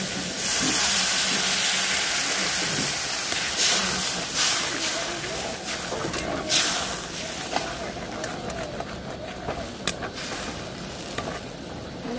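Water poured into a hot pan while making a home-style, restaurant-style egg curry, with a loud steaming hiss and sizzle that bursts at the start and then settles into a steady bubbling, mixed with background speech.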